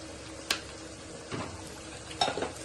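Restaurant-style chicken fry being mixed with turmeric, chili powder and food color: a few quiet, separate scrapes and clinks of stirring spaced over a couple of seconds against a soft background, with no talking.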